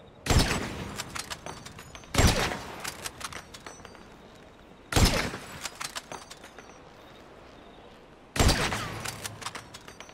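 Four sharp gunshots from Grand Theft Auto V ring out a couple of seconds apart, each a loud crack trailing into a short echoing decay, with faint scattered ambient game noise between them.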